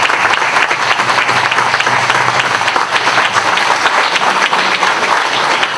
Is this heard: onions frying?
no